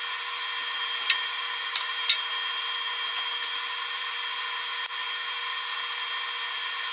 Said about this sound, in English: and then I can weld it